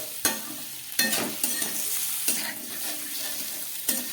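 Cauliflower and potatoes sauté with spices and ground black pepper in a pan, a steady close sizzle broken by several sharp scraping stirs.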